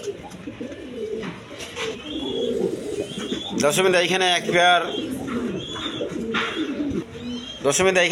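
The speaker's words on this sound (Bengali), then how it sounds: "এক পেয়ার কবুতর মুন্ডিয়ান কবুতর আছে" Black, big-bodied Mundian pigeons coo in low, rolling bursts close by, repeated through the stretch, while someone talks over them throughout.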